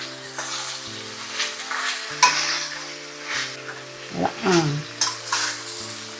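Spiny gourd frying in a pan, sizzling steadily while a spoon stirs and scrapes through it, with louder bursts of stirring, close and continuous, a low background hum underneath.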